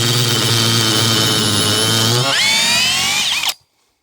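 A power drill bores into a wooden flatbed with a loud, close, steady whine that slows and bogs down near the end, then releases and cuts off into silence.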